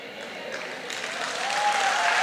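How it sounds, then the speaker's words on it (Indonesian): Church congregation applauding during an evening prayer service, clapping that swells steadily over a couple of seconds, mixed with light crowd noise. "Para jomblower seneng ini, dibela langsung tepuk tangan"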